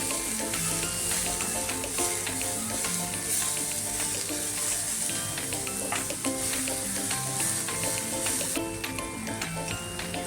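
Garlic sizzles and crackles in hot oil in a pan while bitter gourd curry is being cooked, a continuous bright frying hiss with occasional stirring clatter, close and steady throughout.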